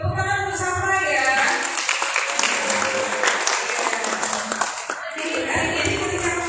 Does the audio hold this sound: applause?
yes